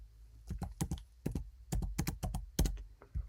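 Close, crisp keystrokes on a computer keyboard in quick irregular bursts with short pauses, as a word is typed into a phone app project, with a low hum underneath and no talking.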